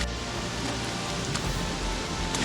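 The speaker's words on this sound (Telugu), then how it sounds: "వాటర్ ఫాల్ సౌండ్ అయితే గట్టిగా వినిపిస్తుంది" Kataldhar Falls in Maharashtra, swollen by rain, produces steady, dense rushing water that fills the whole clip, a constant broadband roar with no pauses or voices.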